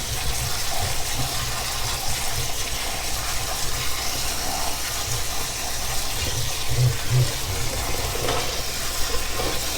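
Steady running tap water streams over fresh cranberries being rinsed before they are made into canned cranberry juice. The rush is continuous and even for the whole stretch, with no talking.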